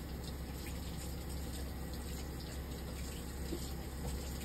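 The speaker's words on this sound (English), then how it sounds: "I'm rinsing the denture." Water runs steadily from a tap while a denture is rinsed, a continuous faint splashing rush with no pauses.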